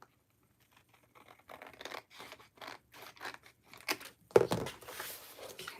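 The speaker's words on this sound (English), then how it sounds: "I can cut this part off." Scissors snip through paper for a craft project in a quiet room, with a series of short, faint cuts and crinkles and one louder rustling crunch near the end.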